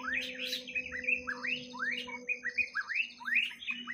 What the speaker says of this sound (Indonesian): masih banyak burung murai batu